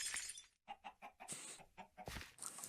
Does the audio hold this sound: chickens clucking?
yes